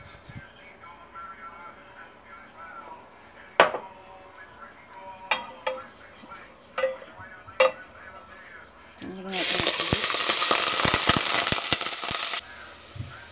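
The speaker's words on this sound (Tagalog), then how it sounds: "Ngayon, igigisa ko na yung aking beef. Lagyan ko ng sesame oil." Beef dropping into hot sesame oil for Korean radish beef soup, bursting into a loud steady sizzle after several sharp clinks of utensils against the pan, with talking heard beforehand.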